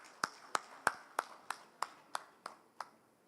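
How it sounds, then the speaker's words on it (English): Slow, evenly spaced single claps, about nine crisp hits, sound in a quiet conference plenary room, each one distinct and fading slightly toward the end, with no crowd roar around them. "And a warm round of applause for our panelists."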